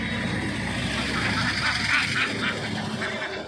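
Native chickens packed in sacks at a busy poultry market, a dense, continuous jumble of clucking and squawking fowl filling the space with steady crowd noise.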